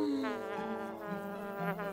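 A cartoon housefly buzzes continuously and close, its whiny drone wavering and gliding in pitch, with no talking.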